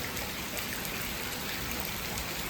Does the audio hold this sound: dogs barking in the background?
no